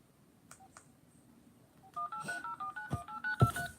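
A telephone number is dialed on a home phone: a couple of faint early tones, then a quick irregular run of sharp DTMF beeps, some overlapping, growing louder toward the end.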